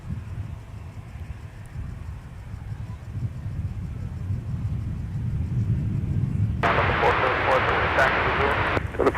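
A heavy airliner takes off from runway 12 right at Minneapolis–St. Paul Airport: a steady low rumble of jet engines builds, then a louder broadband roar swells late as the aircraft powers up, heard from a distance.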